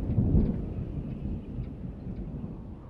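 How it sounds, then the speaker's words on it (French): Thunder from an approaching storm at sea in the film All Is Lost: a deep rumble swells at the start, then fades into a softer, steady rumbling wash over the following seconds. "Ensuite, une tempête approche."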